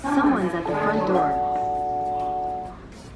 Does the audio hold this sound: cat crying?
no